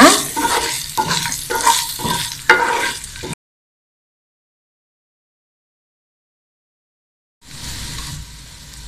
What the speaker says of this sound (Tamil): அந்த செட்டிநாட்டு மசாலாவை சேர்த்துக்கலாம் சேர்த்துட்டு நல்லா கிளறி விடுங்க